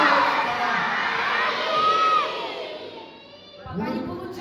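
A crowd of children at a New Year school party shouts magic words together, a loud massed shout that fades, then swells again near the end.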